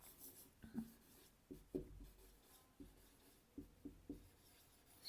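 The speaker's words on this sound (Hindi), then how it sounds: "अब एक सेंटेंस लिखता हूं मैं आपके सामने।" Soft, close strokes of a marker or chalk on a board write out a sentence in short bursts with small pauses between them. The sound is quiet, and no voice is heard.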